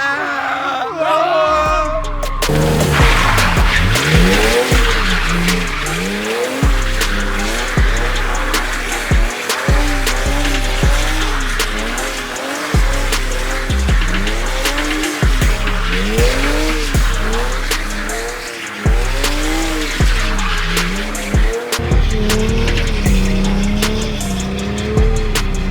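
A car drifts around a figure-eight course, its engine revving hard in repeated surges while the tires squeal and skid continuously, loud and close throughout, with short breaks at each shift and some voices underneath.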